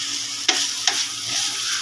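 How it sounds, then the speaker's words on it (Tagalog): Pastil mixture stirred in a hot pan, continuous close sizzling with two sharp scraping clicks of the utensil against the pan, brief and fairly loud, no talking. "Haluin."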